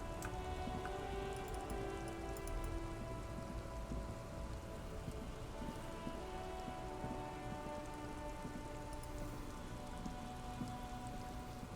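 Steady rain pours in the Disco Elysium video game, a dense, constant hiss of drops pattering on surfaces without pause, with faint distant rumbles beneath.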